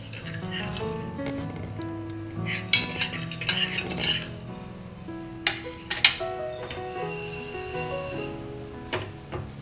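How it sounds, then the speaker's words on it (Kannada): A spoon stirs moong dal and sago roasting in a pan at close range, giving scraping and clinking against the metal in irregular bursts with quieter gaps between them. "ಹೆಸರು ಬೇಳೆ ಹಾಕ್ಕೊಂಡಿದ್ದೀನಿ ಒಂದು ಸ್ವಲ್ಪ ಹುರ್ಕೊಳ್ತೀನಿ"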